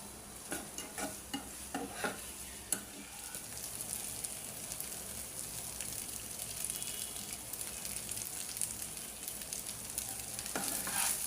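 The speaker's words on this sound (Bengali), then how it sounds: "একটু ভাজা ভাজা করে দিব।" Rice being fried and stirred in a pan, with a continuous close sizzle broken by repeated scraping stirs, steady throughout with no talking.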